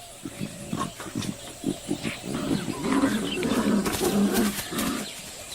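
A wild tiger gives low, rumbling roars and growls in tall grass, several throaty bursts close by that swell into a sustained, gravelly roar in the second half, with faint outdoor ambience behind.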